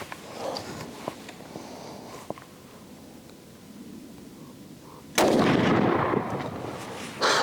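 A hunting rifle fires once at a steel target, a sharp, loud blast with a rolling tail after a stretch of quiet outdoor rustling and faint small noises.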